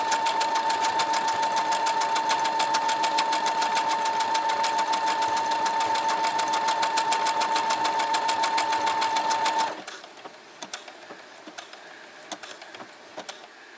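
A sewing machine stitches loudly at close range after its start button is pressed, a fast, even mechanical whir with a steady hum for about ten seconds, then stops, leaving faint scattered clicks and handling noises.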